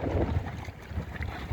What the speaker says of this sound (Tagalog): Yan ang hangin